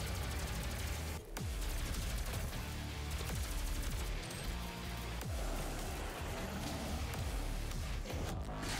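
Rapid bursts of plasma gun fire in the SnapMap video game, repeated shots with sharp punchy impacts in a fairly steady rhythm, loud and continuous over several seconds with no talking.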